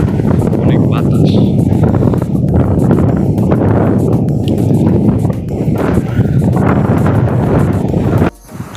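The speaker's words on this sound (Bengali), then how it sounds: "অনেক বাতাস ভাই, বাতাসে আসা যায় না" Strong wind in Saudi Arabia roars and buffets against the microphone throughout, dense and loud, with a low rumble under it, before dropping away abruptly near the end.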